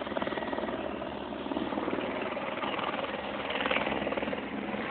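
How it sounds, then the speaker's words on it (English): A nearby helicopter's rotor thuds in a rapid, steady chop over engine drone, growing slightly louder as it lifts off. "you shouldn't be excited about the helicopter taking off"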